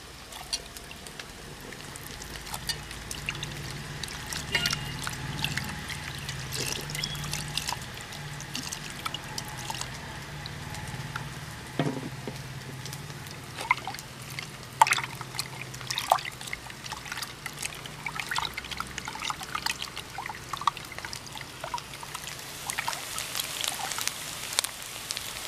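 Water trickling and dribbling as it is poured into ground masala paste mixed with tamarind water for a village-style fish curry, a steady light liquid stream close by with small splashy drips throughout.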